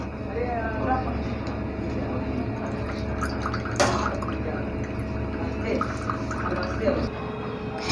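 Freshly made ginger tea, Indian adrak chai, poured from the pan into a cup, giving a steady close liquid trickle with small drips and clinks throughout.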